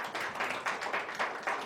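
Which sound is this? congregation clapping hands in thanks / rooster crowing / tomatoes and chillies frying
congregation clapping hands in thanks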